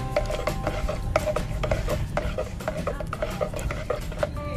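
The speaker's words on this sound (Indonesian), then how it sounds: "Ini kita aduk ya sampai pupuknya larut." Stirring about half a spoonful of fertilizer into water to feed chili plants, a spoon clinking and scraping rhythmically against the container in quick repeated strokes, close and steady throughout.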